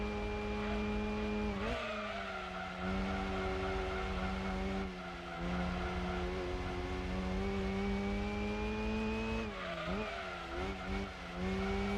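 Race cars from Gran Turismo 2, including a Mazda RX-7 in an endurance race, drone with a steady high-revving engine note, the pitch dropping sharply at gear shifts twice, loud and continuous with no talk.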